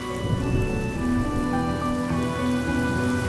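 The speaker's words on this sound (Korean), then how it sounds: "이 비가 내리지 않았다면 카티카 사람도 움직이지 않을 테고" Steady rain falls in the Honkai: Star Rail game world, a dense even patter of drops on surfaces with a low rumble underneath. No voices are heard.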